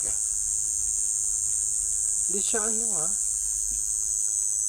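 A cricket that has gotten inside a house chirps with a steady high-pitched trill over a constant electric hum, while a voice speaks briefly midway.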